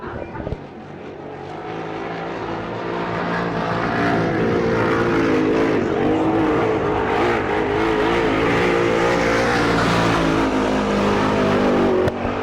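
A sprint car, number 30, takes the green flag at an All Star Circuit of Champions race at Mercer, PA, engine rising from a lower rumble into a sustained, loud, high-revving roar that holds steady as it runs the track.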